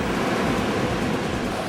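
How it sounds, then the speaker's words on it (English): Surf breaking on a Costa Rica beach gives a steady, full roar of waves that fills the whole moment without a break, close and loud, with no voices. "Serious surfing waves and it's not cold by any means."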